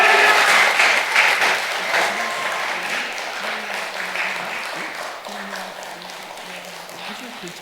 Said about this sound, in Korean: 박수 한번 빡세게 하는 거예요